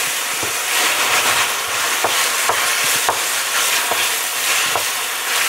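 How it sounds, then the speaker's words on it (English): Tomato paste cooks down in a pan for a spaghetti sauce with rib tips, a loud, dense sizzle and hiss with occasional soft scrapes of a spoon, steady and close. "You want to cook your paste down and bring the flavor out of it."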